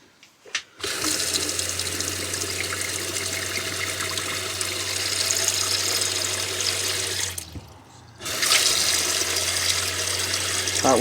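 Water running from a tap in a converted school bus, a steady loud rush with a low hum that cuts off briefly, then resumes strongly, with no talking.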